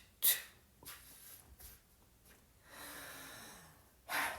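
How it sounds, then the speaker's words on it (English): A deep, forceful exhale emptying the lungs, with a sharp breath at the start, a long steady airy release in the middle and another strong breath at the end, close and quiet with no talk. "Exhale every last bit of air."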